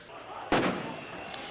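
A single sharp bang from fireworks at a violent street protest in Serbia against the government's coronavirus response, followed by a short noisy decay amid crowd ambience; no clear speech.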